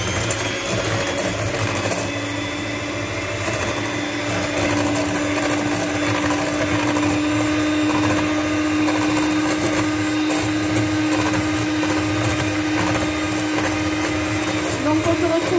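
An electric mixer whirs through madeleine batter of butter, sugar and eggs with a steady, unbroken motor whine from start to finish, close and fairly loud, with faint voices underneath.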